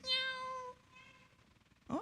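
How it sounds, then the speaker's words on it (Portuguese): A cat gives a clear, tonal meow that fades out, followed after a quiet pause by a second short, sharp mew, both fairly faint against a hushed room. "ouvi miado por aí também"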